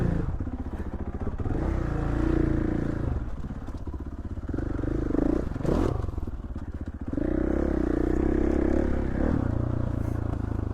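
KTM 450 dirt bike ridden up close, its engine revving and falling back in surges, with clattering and scraping of the ride mixed in and a brief dip in the middle.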